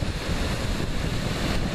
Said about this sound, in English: the waves rise out of the ocean